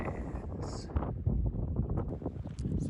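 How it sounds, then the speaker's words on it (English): Wind blows steadily and roughly across the microphone on an island in the Missouri Breaks near Judith Landing, a low buffeting rumble that rises and falls over a few seconds, with no clear voices. "here we are on a windy day on an island looking for camp"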